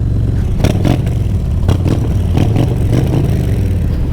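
A motorcycle engine revved close by in short bursts, loud and throaty with rattling mechanical clatter, several quick throttle blips across a few seconds, with no voices.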